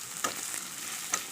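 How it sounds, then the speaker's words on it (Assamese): Marinated duck meat fries in hot oil with onion, chilli and garlic paste over a low flame, a steady close sizzle with two brief sharper crackles and no voices. "মাংসখিনি একেবাৰে ল' ফ্লেমত ভাজি থাকিব।"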